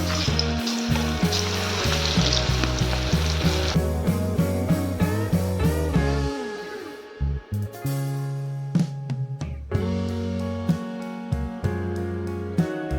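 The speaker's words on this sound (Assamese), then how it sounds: "গেছৰ ফ্লেমটো একেবাৰে কম কৰি এই জলফাইখিনিক 20ৰ পৰা 25 মিনিট সময় ভাজি ল'ম" Olives for a sweet pickle fry in hot oil with five-spice seeds over a very low gas flame, a continuous crackling sizzle with occasional stirring, under background music.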